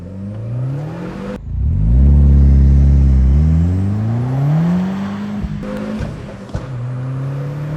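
A hot-hatch Volkswagen engine roars during a 0 to 60 run from standstill, the pitch climbing through gear changes with brief dips between shifts, loud and close from inside the cabin.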